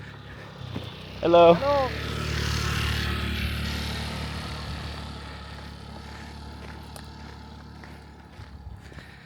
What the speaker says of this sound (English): Oh, look, we got someone on a bike.